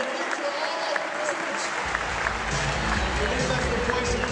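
A large crowd applauds the cosplay finalists at BlizzCon 2008 with sustained, dense clapping, joined partway through by a deep rumbling low thump, with indistinct voices mixed in.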